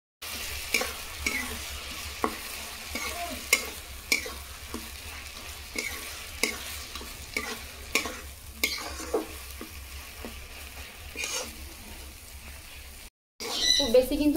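Mustard, poppy and pumpkin seed paste sizzling softly in a pan, with a regular rhythm of faint spoon scrapes and taps as it is stirred, fairly quiet and close.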